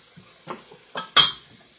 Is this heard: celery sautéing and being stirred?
yes